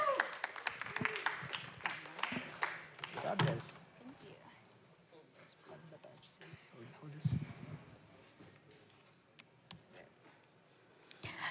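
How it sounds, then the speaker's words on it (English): An audience at the ETHDenver hackathon closing ceremony claps for a presenter, with a burst of applause that swells and fades while a few voices talk over it. "Round of applause for Aya."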